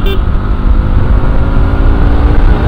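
A Bajaj Pulsar NS200 motorcycle being ridden hard, its engine a loud, steady, close roar mixed with wind rush that holds without a break throughout.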